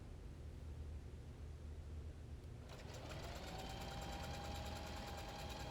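A sewing machine stitching wig closure tracks together under the needle starts up after a quiet stretch, then runs as a fast, even, buzzing hum that carries on steadily to the end, close and clear.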